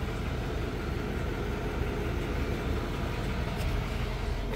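A 2021 GMC Sierra 3500 Denali's 6.6-litre diesel idles with a steady, low rumble that holds even and unbroken throughout, moderately close.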